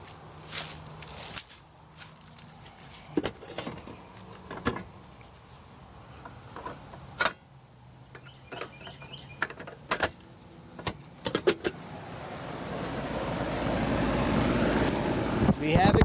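A central air conditioner unit powers up after its breaker is switched on, scattered knocks and footsteps giving way to a steadily building low hum and rush that grows loud toward the end.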